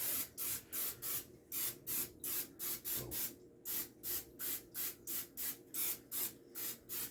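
Close-up aerosol cooking spray hisses in a quick, even series of short bursts, roughly twenty sprays in a steady rhythm.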